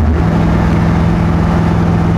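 A 1963 Chevy Corvair Monza Spyder with a 283 V8 swap driving, its engine a steady loud drone as it shifts smoothly, heard from close by.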